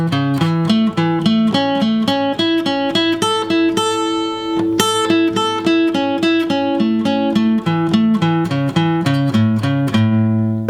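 A guitar plays a major arpeggio exercise with a triplet feel: clean picked notes in a steady, even rhythm, rising and falling in repeating patterns, close and clear with no talking.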